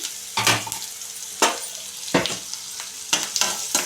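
An egg omelette fries in a pan for egg tomato pachadi with a constant hiss, broken by several loud scraping and stirring bursts spaced about a second apart, nearby and without talking.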